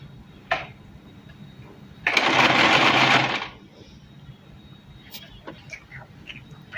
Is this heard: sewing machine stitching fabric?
yes